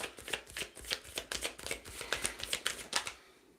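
Reading cards are shuffled rapidly up close, a quick run of crisp riffling flicks in an uneven rhythm before the last card is drawn, with no talking over it.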